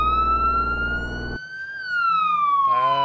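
A video game police car siren from Flashing Lights wails in long rising and falling sweeps, loud and close, with a low engine rumble underneath at first and a quicker warble at the end.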